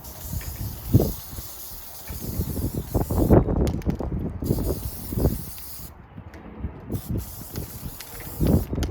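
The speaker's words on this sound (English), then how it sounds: "So I'm gonna just spray the bottom yellow portion." Short bursts of spray paint from an aerosol can hiss on and off in an irregular rhythm, close and moderately loud, with quiet gaps between them, coating a tumbler yellow.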